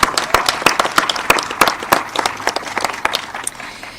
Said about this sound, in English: yes, let's applaud.